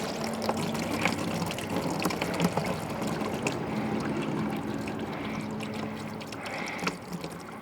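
Watery fluid drains from the engine of an abandoned 1960 Lincoln Continental motorhome, making a steady, close splashing and trickling pour that runs without break under faint background noise.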